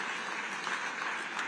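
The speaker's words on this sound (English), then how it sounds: "A round of applause for our sponsors, ladies and gentlemen." An audience at a youth business forum gives a short burst of steady, dense applause for the sponsors, a continuous wash of clapping heard at moderate distance.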